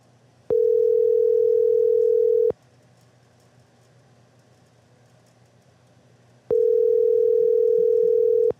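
A ringing tone on a radio call-in show's phone line: two long steady electronic tone bursts about two seconds each, separated by a four-second pause, with faint background hum and no talk.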